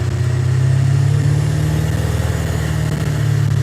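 A truck engine runs steadily under cruise control, a loud, continuous mid-pitched drone with no clear rise or break, and no voices.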